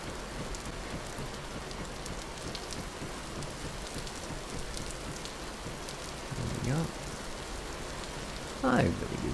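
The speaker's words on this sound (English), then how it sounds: "I really do wish it would stop raining." Steady rain falls in the video game Vintage Story, a continuous soft hiss filling the whole stretch, with a couple of brief faint vocal sounds near the end.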